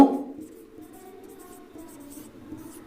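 A pen writes out a math proof on paper with soft, continuous scratching strokes, close and quiet, with little else around it.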